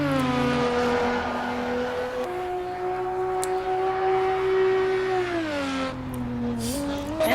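Race car engine in the racing game Assetto Corsa Evo at the Nürburgring, a sustained droning engine note that holds steady, then dips and climbs again as the revs shift.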